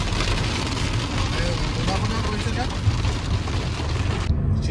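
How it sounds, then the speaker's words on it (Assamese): Rain starts up again at Lankvoku waterfall in Karbi Anglong, a dense, steady hiss of drops on surfaces that continues unbroken until it cuts off near the end. "অলপ সময় আগতে বৰষুণ নাছিল আৰু পটককৈ আকৌ ষ্টাৰ্ট হৈ গ'ল"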